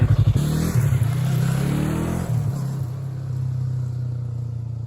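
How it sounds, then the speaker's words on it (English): A 2021 Yamaha MT-03 motorcycle engine close by, a low steady rumble with a brief blip of revs at the start that then settles into an even idle. "this is it idle. So it sounds pretty tame at the moment"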